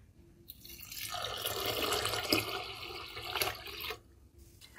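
Water drains and splashes as it is poured off soaking lentils for a restaurant-style tadka dal, a steady trickling pour lasting a few seconds close by, with no talk.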